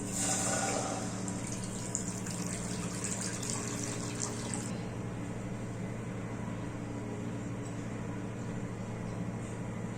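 Water pours into a pan on the stove for boiling beef liver, a steady splashing hiss that fills strongly for the first few seconds, then settles to a quieter, continuous liquid rumble.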